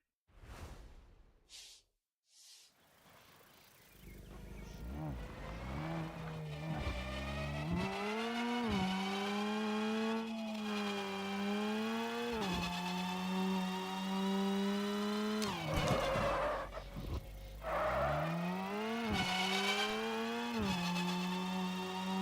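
A built vehicle's engine revving in the Screw Drivers video game, a few short blips then a sustained buzzing motor tone that repeatedly rises in pitch and drops as it accelerates and shifts, loud and without speech.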